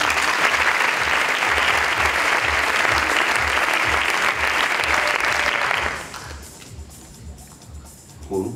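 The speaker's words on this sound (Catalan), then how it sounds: "Un aplaudiment." Dense applause from an audience at a festive civic proclamation ceremony in Torelló, a loud continuous wash of clapping with a steady underlying rhythmic beat that stops abruptly near the end, leaving a quieter room.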